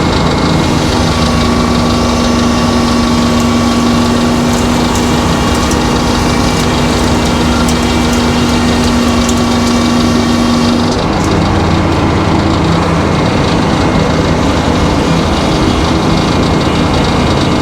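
A saw blade cuts steadily through a board, giving a loud, continuous machine whine and grinding drone that holds for about eleven seconds and then changes tone as the cut finishes.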